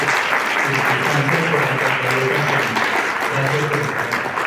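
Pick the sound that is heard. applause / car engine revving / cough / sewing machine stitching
applause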